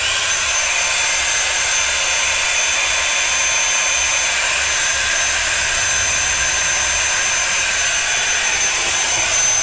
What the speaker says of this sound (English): So this is a hairdryer, not a low wattage one, it's a normal one.